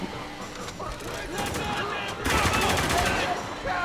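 Sustained gunfire in the video game Spec Ops: The Line during a firefight, with rattling volleys that grow louder partway through. Voices can be heard amid the shooting.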